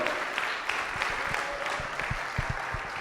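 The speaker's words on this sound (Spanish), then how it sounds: "Dele ese aplauso al Señor." A church congregation claps for the Lord during a sermon, giving a steady spread of hand claps with sharper individual claps scattered through it, at moderate loudness and with no talk over it.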